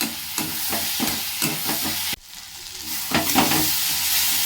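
Chilli paneer stir-fries in a hot pan with sauce, steady sizzling punctuated by rhythmic scraping strokes of a spatula, with a sharp break midway before the sizzle and stirring resume, close and clear.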